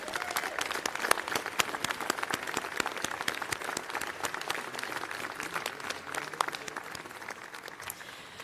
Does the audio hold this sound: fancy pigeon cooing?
no